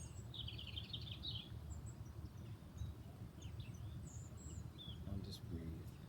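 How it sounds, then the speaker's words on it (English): Birds chirp and call faintly outdoors with short high twitters scattered through the clip, over a steady low rumble of ambient background noise and no clear talking. "If you can hear the birds here,"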